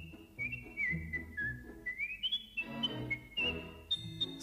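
A person whistles a lively, birdlike tune imitating a nightingale in a radio play, sliding and trilling between high notes, with soft low clunks and rustles in the background.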